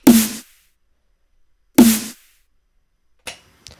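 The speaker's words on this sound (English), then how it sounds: "When put all together, we have a snare that sounds like this." Layered dubstep snare, two punchy, bright hits with a short noisy tail about two seconds apart, followed by fainter clicky fragments.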